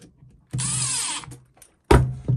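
A power screwdriver tightening hose clamps on a rubber inner tube fitted between the carburettor and manifold of a two-stroke engine, in two close whirring bursts, the first longer and the second short, separated by quiet.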